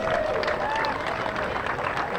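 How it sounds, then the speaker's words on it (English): Applause from a parade crowd gathered outdoors, steady scattered clapping that fills the whole short stretch at moderate distance, with cheering voices mixed in. "Big round of applause."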